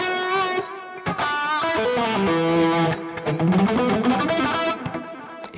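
An electric guitar plays a sustained melodic phrase through a delay effect darkened with a low-pass filter, with soft, muted repeats trailing each note into a smooth ambient wash.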